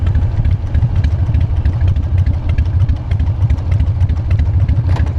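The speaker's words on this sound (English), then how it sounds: "She potatoes on idle like she's supposed to." A Harley-Davidson Super Glide motorcycle engine idles steadily and loudly up close, with a lumpy, loping low rumble and mechanical clatter that carry on throughout with no speech.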